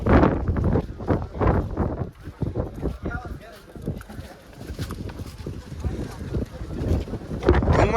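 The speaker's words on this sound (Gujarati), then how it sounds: "પવનની ગતિ વધતી જાય છે" Strong wind on Girnar mountain buffets the microphone in heavy, rumbling gusts that pulse irregularly throughout, with people's voices faintly audible under the blustering.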